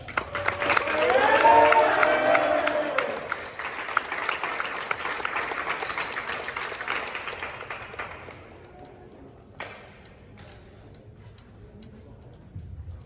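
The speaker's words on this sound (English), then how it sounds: "Clap it up." A crowd claps and cheers at a boys volleyball senior night, loud with voices mixed in at first, then thinning to scattered applause that fades out, leaving a quiet room with a few stray sounds.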